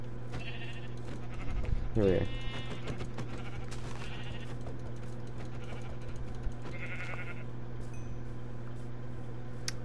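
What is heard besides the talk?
sheep bleating in a video game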